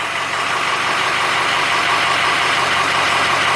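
A Ford F250 with a 6.0 Powerstroke diesel engine idles in drive, giving a steady, close, continuous rumble with a slight knocking texture and no pauses.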